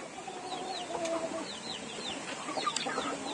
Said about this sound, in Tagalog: at ito yung ating isang cobra chicken, oh, na crossbreed ng Rhode Island